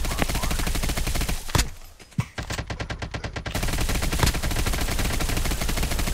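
Rapid automatic gunfire rattles through a battle royale video game match, loud dense bursts with a short pause, then more sustained shooting.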